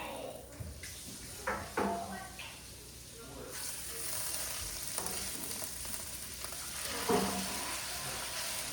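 Burger patties sear in a hot pan with a soft, steady sizzle and occasional spatula scrapes and crackles, fairly quiet, while a person speaks over it.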